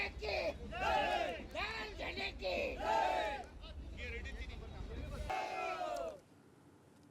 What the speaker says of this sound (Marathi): सांगोला पंचायत समितीवरती एक हाती सत्ता आल्यानंतर आमदार बाबासाहेब देशमुख यांनी जल्लोष केला